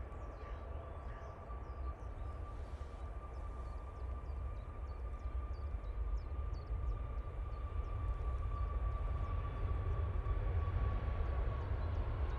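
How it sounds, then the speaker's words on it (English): A Ryanair airliner touching down at Manchester Airport, a broad distant engine roar with a steady tonal whine, slowly swelling louder as it lands. "this Ryanair is about to touch down"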